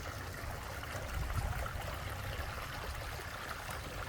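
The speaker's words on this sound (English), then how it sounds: "But the water sounds so nice." Water trickles and splashes down a pondless garden waterfall, a steady close rushing burble with no pauses.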